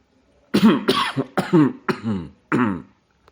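A man clears his throat in a series of gruff, voiced rasps, several short bursts close together, loud and alone.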